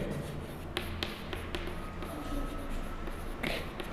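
Someone writes out integral calculus working on a board: faint, steady scratching with a few light taps over a soft room hum, quiet and close, with no clear talking.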